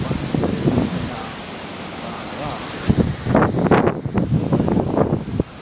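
Hurricane wind in the Bahamas roars steadily into the microphone, a broad rushing buffeting that swells and surges in gusts, with brief voices underneath.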